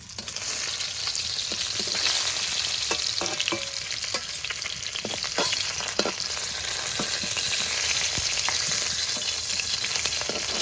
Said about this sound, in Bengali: এখন এক পিঠ ভাজা হতে থাকবে।